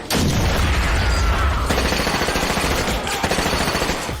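Gunfire from a VR shooter game on Quest 3, played through a haptic gun stock: dense, loud bursts of rapid shots filling the whole moment with no pauses, heard alone without talk.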